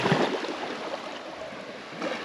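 Small waves washing onto a sandy shore off a Vietnamese island, a soft, continuous broadband swash with gentle surges near the start and end, close by and without talking.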